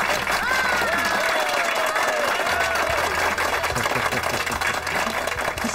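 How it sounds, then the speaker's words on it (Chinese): A crowd at an indoor gathering of colleagues breaks into steady, dense clapping that carries on throughout, with some voices talking and calling over the applause. "来，掌声欢迎。"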